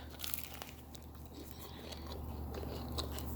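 Close, crisp crunching of a freshly baked croissant being bitten and chewed, a few sharp crackles over a quiet background; no speech.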